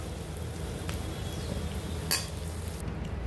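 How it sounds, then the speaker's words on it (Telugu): Baby potatoes frying in a kadai give off a steady low sizzle, with one sharp clink of a utensil against the pan partway through and no voices. "ఇప్పుడు ఆలూలోకి కొద్దిగా పసుపు వేసుకుని మిక్స్ చేసుకొని ఫ్రై చేసుకుందాం."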